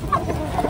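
Chickens clucking near a bamboo chicken coop, a few short close clucks over a steady outdoor background.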